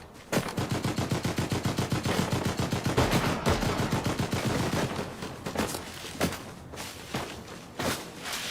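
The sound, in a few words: gunfire shooting at player, from video game Fortnite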